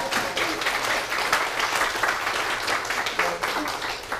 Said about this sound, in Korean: 정말 열정적인 강의를 해주신 우리 선정기 선생님께 다시 한번 뜨거운 박수 부탁드립니다